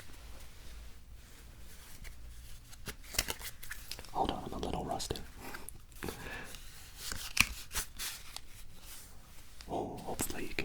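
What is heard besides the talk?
shuffling playing cards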